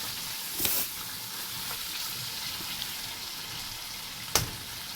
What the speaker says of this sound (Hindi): कढ़ाई को हम अच्छे से मिक्स करते जाएंगे